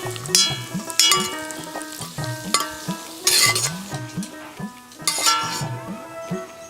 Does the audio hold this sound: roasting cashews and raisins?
yes